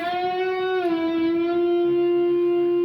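Distorted electric guitar from a song plays a sustained, bent lead note that dips and settles, ringing loud and alone with a rich buzzing edge.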